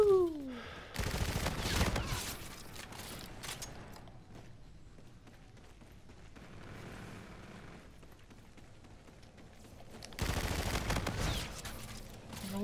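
Rapid automatic gunfire from Call of Duty: Infinite Warfare free-for-all gameplay erupts in two loud bursts, one near the start and one near the end, separated by a quieter stretch of low game ambience.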